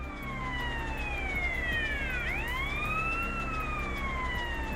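In GTA San Andreas, a police car siren wails in a continuous rising and falling electronic sweep, loud and steady over a low rumble of game engine noise.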